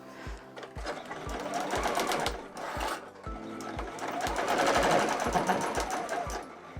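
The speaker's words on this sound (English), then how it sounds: "at the machine I have my stitch length at the longest setting, which for my Juki is 5 millimeters. And I'm just gonna sew straight down the selvage edge." A Juki sewing machine set to its longest 5 mm stitch runs straight down a fabric selvage edge, its needle thumping in a steady rapid rhythm with brief pauses, close and clear with no talking.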